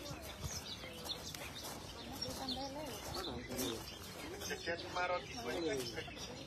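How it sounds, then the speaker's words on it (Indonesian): Birds calling and cooing nearby at the Church of the Primacy in Israel, with chirps and soft coos repeating over a background of people talking. "Suara burung."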